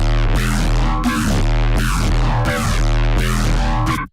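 Phase Plant synthesizer bass preset built for drum and bass and halftime: a heavy, loud, growling bass in repeated pulsing phrases of about one second each, cutting off abruptly at the end.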